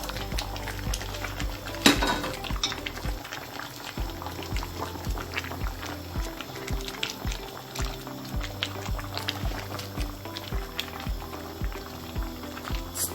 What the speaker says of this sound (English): So now you stir.